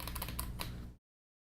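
Keys typed on a Tecware Phantom Elite 87-key mechanical keyboard with ABS keycaps, a quick run of soft, fairly quiet clicks that cut off abruptly.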